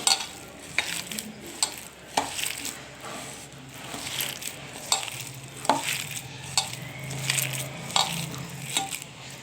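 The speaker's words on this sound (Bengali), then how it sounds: "তো এটাকে এখন ভালো করে মেখে নেব।" Raw green banana fritter batter being mixed by hand with gram flour and rice flour, giving irregular wet squelching and stirring sounds close up, with occasional sharper clicks and no talking.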